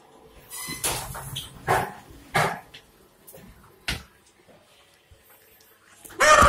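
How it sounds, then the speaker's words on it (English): A dog barks in short loud bursts, several sharp barks spaced over a few seconds with a final bark at the end, near and clear in an urban setting in Wellington's central business district. "that was a dog"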